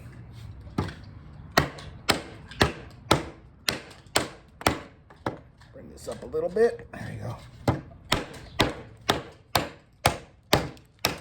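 A Boker Wenger Tracker Plus knife chops into wood with sharp, evenly spaced strikes, close and loud, pausing briefly midway while someone speaks.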